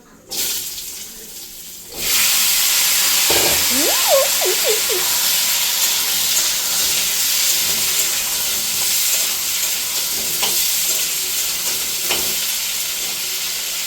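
Potatoes dropped into hot oil with cumin seeds give a sudden loud, steady sizzle that holds for many seconds, close and constant, with a few faint knocks and stirs under it and no talk.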